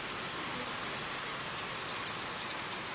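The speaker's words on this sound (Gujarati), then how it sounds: "વરસાદ આટલો આટલો અત્યારે ચાલુ છે." Heavy rain pours down in a dense, even hiss of drops striking surfaces all around, loud and unbroken with nothing else standing out.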